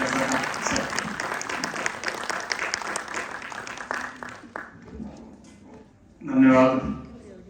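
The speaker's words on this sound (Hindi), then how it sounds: "एक बार जोरदार तालियां बजा के स्वागत कीजिए अवधेश मिश्रा सर का।" Applause at an international yoga conference welcomes a speaker, a broad burst of clapping through the first half that thins and fades before a voice speaks near the end.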